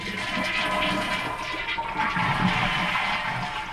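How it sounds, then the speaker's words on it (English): A toilet tank drains with a loud, steady rushing gurgle of water that holds constant throughout, with no talking. "We're going to drain the water now."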